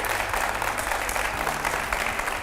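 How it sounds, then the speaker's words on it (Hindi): A television studio audience at a Budget 2025 talk show gives a short burst of vigorous, even clapping, loud and continuous with no speech over it. "एक बार जोरदार तालियां हो जाए"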